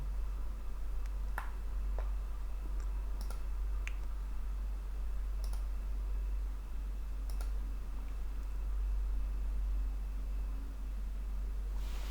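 Computer mouse clicking during editing work in NX CAD software: sparse, faint single clicks at irregular intervals over a steady low electrical hum and background hiss, with no talking.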